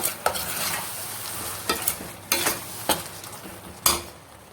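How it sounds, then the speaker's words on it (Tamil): Ground masala, sautéed and then ground, being stirred into an intestine (kudal) curry in a pan, with a soft sizzle under repeated scraping strokes of a spoon about every half second, close and fairly quiet. "வதக்கி அரைச்ச மசாலா அதையும் மிக்ஸ் பண்ணி விட்டுட்டு"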